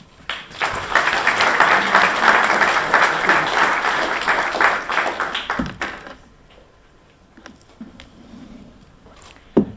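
Audience applause at a football complex dedication ceremony, dense steady clapping for about six seconds that then thins to scattered claps and fades into quieter room noise.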